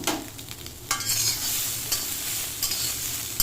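Fish and green chilies sizzle as they are stirred and fried in a pan. There are close scraping stirs, with a sharp burst near the start and a continuous crackle after it. No one speaks.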